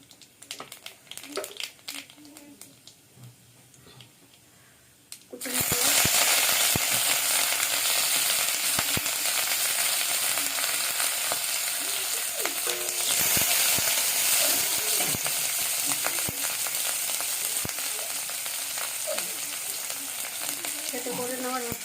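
Nigella seeds dropped into hot oil in a wok, a quiet clattering lead-in giving way to a sudden loud, continuous sizzle and crackle that holds steady for the rest of the stretch, with faint voices barely present.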